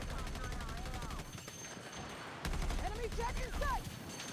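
Rapid anti-aircraft turret gunfire in a Battlefield video game, bursts of loud booming shots alongside a voice talking over the action.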